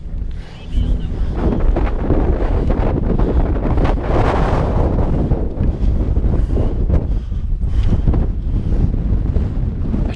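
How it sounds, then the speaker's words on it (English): Strong gusting wind buffets a small camera microphone at the end of a dirt road during the Mount Washington Auto Road race, a loud continuous roar with surging gusts filling the whole stretch. "the wind will get you from every direction. Here it comes, starting to swing around and getting into our faces"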